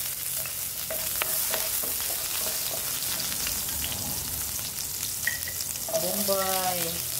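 Garlic and onion fry together in a pan while cooking pancit canton, a steady moderate sizzle with occasional stirring clinks, continuous throughout and no one speaking.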